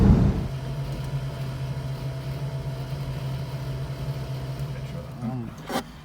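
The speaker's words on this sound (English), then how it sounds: "I will cut now to a shot of Paul changing gear" A Citroen 2CV engine drones steadily at a low pitch, then its revs shift during a gear change near the end, with a brief rise and a faint click-like burst before it settles again.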